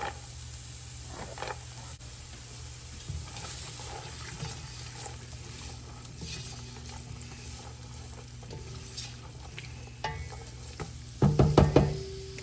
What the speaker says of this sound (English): I'm going to toss these carrots into this oil and start cooking them up first.